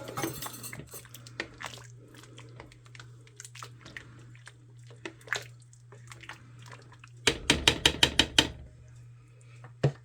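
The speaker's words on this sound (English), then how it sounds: "And we're going to give this a stir." A spoon stirs cheddar cheese into hamburger potato soup in a crock-pot, with quiet scraping and sparse clinks over a low hum, then a quick flurry of sharper knocks against the pot.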